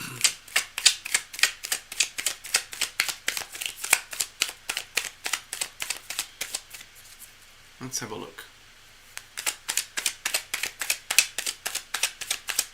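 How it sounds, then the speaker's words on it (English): Tarot cards riffled and shuffled in steady rapid bursts of crisp flicking, close and fairly loud, pausing briefly while someone speaks, then resuming the rhythmic shuffle. "Cards are well shuffled."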